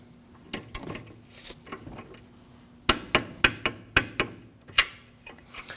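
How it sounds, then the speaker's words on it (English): Clicking of a torque wrench on an 18mm socket tightening the sway bar link nuts of a 2013-2015 Subaru XV Crosstrek: sharp clustered metallic clicks, close and fairly loud, with a handful of softer taps and handling noises between them. "Torque the nuts for the sway bar link to 44 foot-pounds using an 18mm socket."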